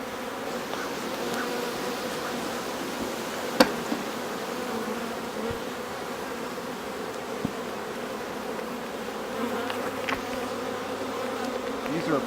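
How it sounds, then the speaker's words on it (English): A dense mass of honey bees hums in an open hive, a steady, close, continuous buzz with occasional individual bees flying past. "Just boiling and writhing with a mass of bees."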